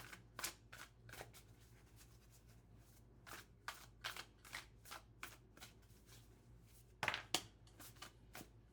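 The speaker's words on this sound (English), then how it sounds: "Let's get these shuffled." Crisp riffling bursts of playing cards being shuffled, a dozen or so quick ruffles in an irregular rhythm, close and quiet with no talking.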